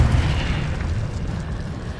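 A Confringo blast spell detonates in Hogwarts Legacy, a loud, deep explosive rumble that holds steady for about two seconds and slowly trails off.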